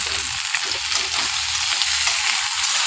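Onion, tomato and green chilli fry with potatoes in a pan, a continuous bright sizzle with soft stirring shuffles, close and fairly loud, no speech.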